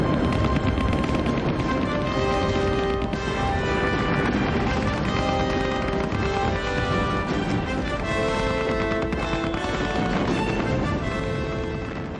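Heavy gunfire under fire during a First World War naval blocking raid, a dense, loud and continuous barrage of booms and cracks that fills the whole stretch without pause.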